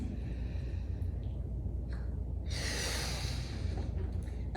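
Belly breathing with the pelvic floor engaged: one close, airy exhale swells for about a second midway through, over a low steady room hum, with no talking.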